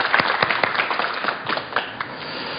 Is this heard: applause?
yes